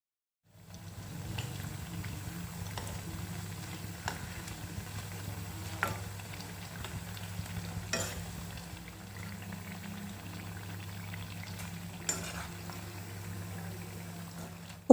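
Sweet potato slices fry in hot oil in a pan, a steady soft bubbling and sizzle with a few sharp clicks of a utensil turning them over.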